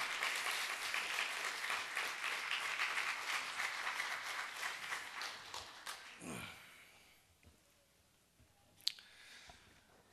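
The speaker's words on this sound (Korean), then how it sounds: "우리 격려와 축복의 박수를 한번 모시겠습니다" Encouraging applause from a Korean church congregation at a praise service, dense clapping that fills the room and then fades out, leaving a quiet hall with a few faint knocks and rustles.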